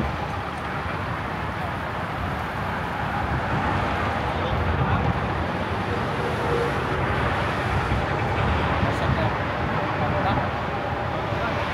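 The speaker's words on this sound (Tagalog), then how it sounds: "Medyo malakas yung hangin." Strong wind buffets a microphone outdoors while waiting for a taxi, a loud continuous low rumble that stays steady throughout with no talk.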